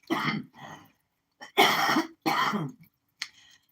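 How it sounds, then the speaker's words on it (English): Four coughs in quick succession, close and fairly loud, with short pauses between them and a softer final cough. "Pardon me, I have to cough."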